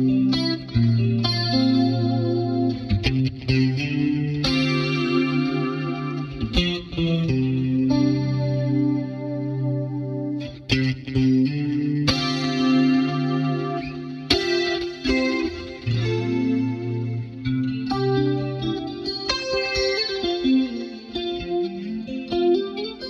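A clean electric guitar plays sustained 1980s-style chords and melodic lines with a shimmering chorus tone, run through a compressor at the end of the chain and held at an even, squashed level throughout with no voices.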